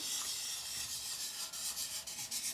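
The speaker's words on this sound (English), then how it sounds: "So what I'm going to do is rub on each of these images." A finger rubbing across resin-sealed laser engravings on a small surface, a soft, steady, close-up scraping hiss lasting a few seconds, with no voices.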